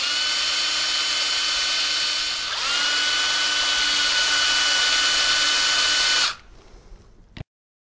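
A power drill bores holes for switches in an ROV control box, a steady high whine running for about six seconds with a brief dip partway, then winding down and stopping.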